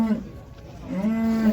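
A dairy cow with a calf lows at a busy livestock bazaar in Uzynagash near Almaty, giving two close moos, a short one and then a longer drawn-out call.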